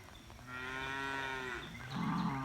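Cows and calves moo in a pasture on a rainy day, with long drawn-out low calls that are close and clear and a second rougher bellow at the end.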